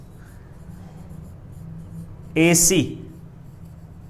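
Marker or chalk writing out a geometry proof for a Class 9 maths exercise, a brief scratchy burst of strokes lasting under half a second amid steady background hum, with a person speaking.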